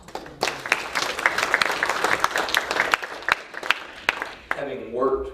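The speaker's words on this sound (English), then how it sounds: "I think they deserve a round of applause." Applause for teachers at alternative schools during a Republican gathering, a dense crowd clapping with scattered louder claps that taper off near the end as a voice begins speaking.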